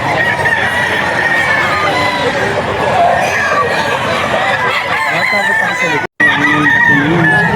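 Chickens, a hen and roosters at a fowl yard in Bocaue, Bulacan crow and cluck loudly and close, overlapping in a dense, continuous din with people talking in the background.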